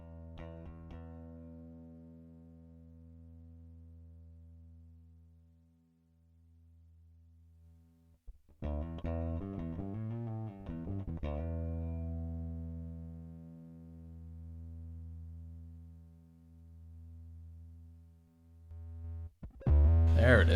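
A bass played through a Fractal AX8 with an EDM-style effect and the clean sound switched off: sustained low synthetic tones swell and fade, with a pulsing wobbly modulated section in the middle and a louder attack at the end.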